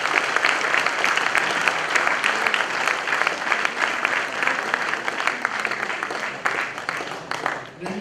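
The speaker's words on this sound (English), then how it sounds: "We give a good round of applause." Sustained applause from an audience at a career guidance program, a dense, steady wash of clapping that continues throughout and tapers slightly near the end.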